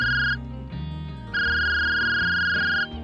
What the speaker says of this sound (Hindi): एक दिन की बात है कि चंदना को एक फोन कॉल आ जाता है।